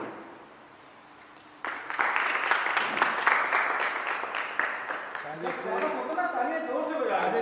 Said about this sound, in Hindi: तालियां जोर से बजा